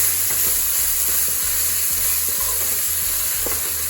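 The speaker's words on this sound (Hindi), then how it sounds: "इसको हम थोड़ा सा भूनेंगे।" Crushed ginger and garlic fry with a loud, constant sizzle in a pan, with faint rhythmic scraping of a spatula underneath; close up and without speech.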